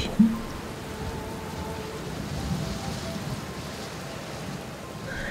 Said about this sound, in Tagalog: malakas na buhos ng ulan sa labas ng kanilang bahay